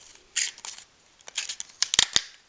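Scissors snip through paper for a party decoration, a series of short, crisp close-up cuts that speed into a quick cluster near the end, with no talk.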